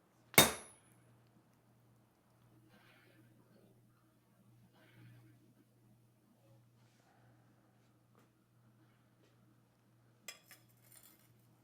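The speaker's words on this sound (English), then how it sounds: "I'll put my maker's mark on it." A single sharp metallic strike as a maker's mark stamp hits a forged Cu Mai nakiri blade, a loud crack with quick decay, followed by quiet shop ambience with a steady low hum and a few faint clinks near the end.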